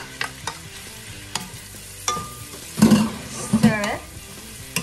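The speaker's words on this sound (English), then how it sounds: "Saute it for 2 minutes or so. Keep on stirring." Beef stir-frying for pepper steak, a soft sizzle under scattered clinks and scrapes of a utensil stirring in the pan, with a few louder bursts toward the end.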